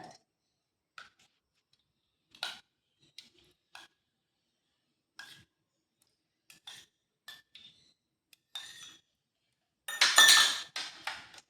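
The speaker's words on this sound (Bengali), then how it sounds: "একটা থালার মধ্যে দিয়ে দেব 6 চামচের মতন বাটার" Small spoonfuls of melted butter tapped into a plate, a series of light metallic clinks and taps spaced irregularly, with a denser scraping clatter near the end; close and fairly quiet, no talking.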